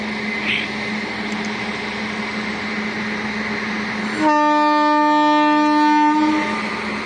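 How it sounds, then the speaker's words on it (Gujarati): A loud train horn on a Mela special train heading to Jabalpur sounds once, a steady multi-tone blast lasting about two seconds over the constant rumble of the moving train. "હોર્ન મારી દીધું છે મિત્રો."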